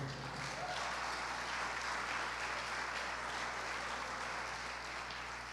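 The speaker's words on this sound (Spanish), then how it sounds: "Aplauda su gloria." Sustained, dense applause from a church congregation, steady and loud throughout with no pauses or speech over it.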